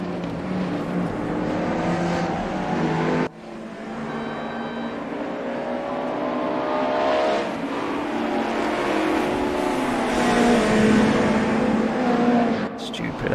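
A BMW race car engine in a sim racing game screams at high revs, rising and falling through gear changes and corners, loud and constant, with a commentator talking over it.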